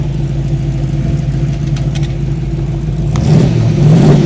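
A 1961 Corvette engine runs with a steady low rumble, then revs up louder toward the end, heard close and alone.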